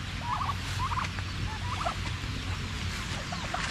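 Turkeys gobble in short repeated bursts over steady farmyard background noise, several calls spread across the few seconds, moderately close, with no talking.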